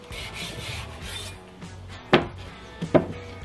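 A knife cuts through dry aged NY strip beef to portion it into thick steaks, giving a soft rasping, rubbing sound and then two sharp cutting thuds close to the microphone.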